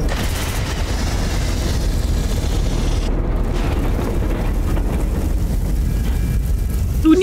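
Fire attacks in Aliens: Dark Descent produce a loud, unbroken roaring rush that stays dense and heavy throughout, with no gaps.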